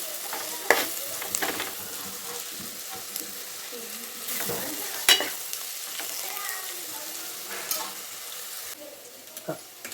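Food frying in a pan on a gas stove, a continuous close sizzle broken by repeated scraping stirs and clinks of a utensil over ten seconds, with no talk.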